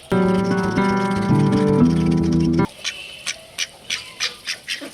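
Farm ducks quack while being fed green fodder, a string of short, rhythmic, nasal calls at fairly close range, following a loud, steady tonal passage at the start.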